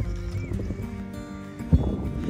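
Wild horses on a mountainside in a rewilding area: a faint whinny, soft snorts and hoof sounds under a murky outdoor background, with no clear voices.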